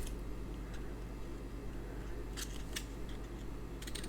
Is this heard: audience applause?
no